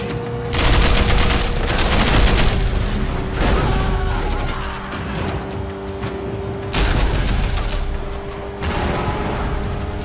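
Remotely armed mounted guns on a car fire loud, continuous automatic bursts over engine and road noise during a vehicle chase in Sleeping Dogs: Definitive Edition, the Wheels of Fury DLC.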